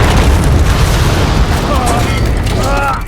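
Missile explosions from the action film Transformers: Age of Extinction give a loud, continuous, deep rumbling roar. Shouted dialogue and whistling tones sit over the top of the blasts.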